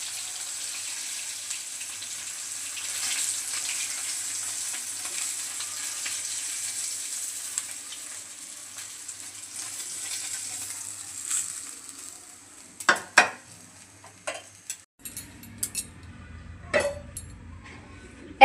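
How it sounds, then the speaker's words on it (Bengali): Pangas fish pieces fry in hot oil with a steady, soft sizzle. Near the end, louder clatters and scraping stir-like knocks break through the sizzle. "মাছগুলো লাল করে ভেজে নিচ্ছি"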